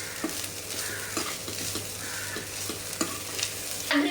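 Mutton agri masala fries with mint, coriander and grated coconut, giving a steady crackling sizzle close up. Regular scraping stirs come through, with no speech.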